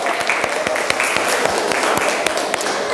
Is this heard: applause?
yes